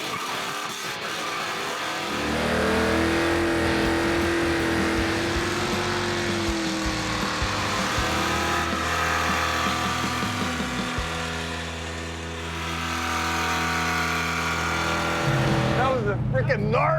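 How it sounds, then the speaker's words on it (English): Plymouth Road Runner with a loose, worn front end roars through a burnout, a loud sustained engine howl with tire squeal lasting most of the clip, close by, with voices over it near the end. "Freaking gnarly ass burnout."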